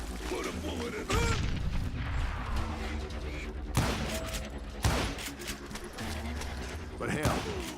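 Gunfire in the Western shooter Call of Juarez Gunslinger: several loud booming shots crack over a busy, dense game soundtrack, with a voice talking throughout.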